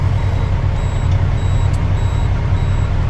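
Ten-wheel dump trucks queue at an excavation site, waiting to haul away soil. Regular high reversing beeps repeat roughly every half second over a loud, rumbling diesel idle close by.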